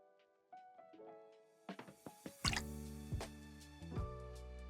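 Clarified grapefruit juice pours into a small cocktail measure, building as a close, trickling stream with rising gurgling tones and a few drips, fairly quiet with no voices.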